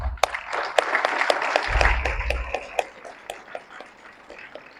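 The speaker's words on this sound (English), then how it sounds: "Definitely, it requires a big round of applause." Conference audience applause at a two-day international conference, a moderate round of clapping with sharp individual claps standing out, swelling briefly then thinning toward the end.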